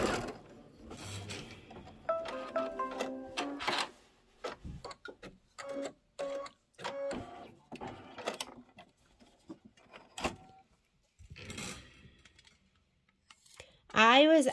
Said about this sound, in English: then it's gonna do an outline stitch